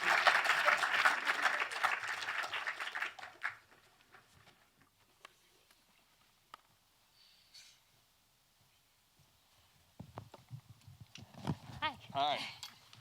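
An audience at a post-screening Q&A for the film "Hail Satan?" applauds loudly and densely for a few seconds before the clapping fades, and a voice speaks near the end.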